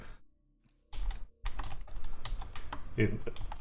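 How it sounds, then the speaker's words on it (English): A computer keyboard being typed on at close range: a rapid, uneven clatter of keystrokes begins after a short quiet pause and runs steadily, with a few louder clicks. "Let's see what happens if I type."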